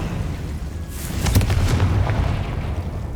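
A Confringo blasting spell explodes in the Hogwarts Legacy video game, a single booming burst with a crackling tail that rises out of a steady low rumble and fades over about a second.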